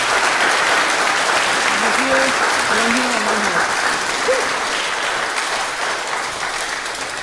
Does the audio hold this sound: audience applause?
yes